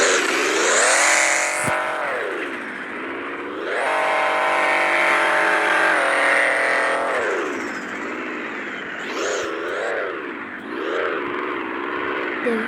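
A BMW car engine revs up and down repeatedly at close range, its loud droning pitch rising and falling in waves, with a few short engine drops between surges.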